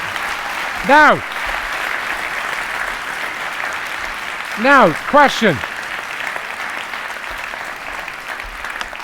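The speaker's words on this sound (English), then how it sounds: "Give him a round of applause." A crowd at a sales conference keynote applauds in a steady background wash of clapping while someone speaks over it with a few short, loud vocal bursts.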